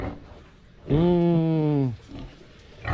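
A single drawn-out, tonal pig grunt or squeal lasting about a second, fairly close, with quieter snorting sounds before and after.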